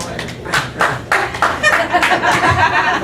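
Audience clapping at a stand-up comedy show, a burst of claps and scattered chuckles rising and fading over a few seconds, with the comedian's voice carrying over it.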